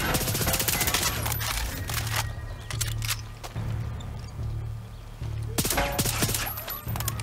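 Rapid bursts of automatic gunfire from the video game Far Cry 6 rattle in repeated volleys, with brief pauses between them and sharp crackling peaks throughout.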